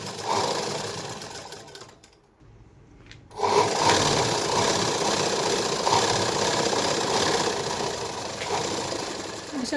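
Sewing machine running steadily while stitching a lined blouse, with a brief pause near the start before the motor's whirring resumes and carries on close and continuous.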